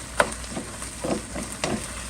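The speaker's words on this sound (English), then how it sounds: "When it starts boiling, how it's going to get nice and thick." Mongolian-style ground beef sauce bubbles and sizzles in a pan, with a few soft pops and stirring knocks spaced through a quiet stretch and no talking.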